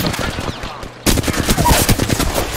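Rapid bursts of video game gunfire, loud and close, with a short lull before a dense stretch of repeated shots.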